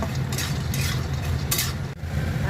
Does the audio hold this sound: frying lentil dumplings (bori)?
yes